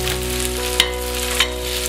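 Cod frying in a pan with onion and pepper, a dense steady sizzle with a couple of sharp stirring clicks, close and alone.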